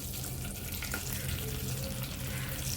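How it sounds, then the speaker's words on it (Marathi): Whole spices frying in hot oil with cumin for palak paneer, a dense steady sizzle and crackle with a faint clink of a utensil, close and even throughout. "खडे मसाले सुद्धा छान परतून घेऊया तेलावरती."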